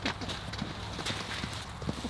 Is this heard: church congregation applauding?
no